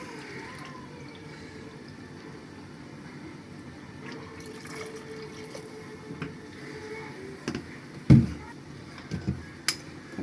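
One cup of distilled malt vinegar trickles and splashes into a container in a home kitchen, a soft liquid pour followed by a few louder knocks and clatters.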